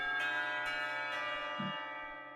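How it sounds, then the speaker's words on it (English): School bells from the visual novel game Katawa Shoujo announce the end of break with a sustained, rich chime that swells in repeated strikes and slowly fades, heard alone. "It is along with all the bells are signaling the end of break."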